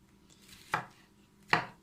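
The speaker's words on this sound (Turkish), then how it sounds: "İnce doğruyorum" Two sharp knife chops on a cutting board, spaced under a second apart, close and distinct against a quiet kitchen background.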